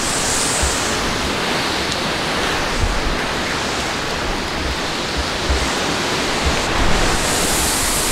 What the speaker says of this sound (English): You can hear, oh, that was a big gust.